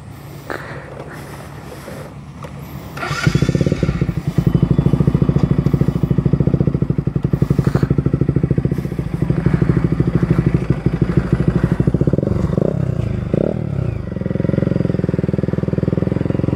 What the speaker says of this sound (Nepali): यो बाइकलाई टेस्ट राइड गरेर हेरौँ हैन, कस्तो साउन्ड आउँछ